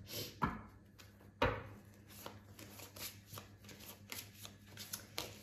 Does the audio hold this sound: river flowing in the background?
no